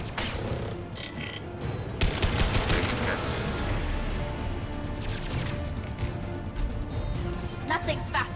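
Rapid gunfire from Mass Effect 2 Legendary Edition during the Overlord DLC, dense bursts and impacts running throughout, with a voice talking over the shooting.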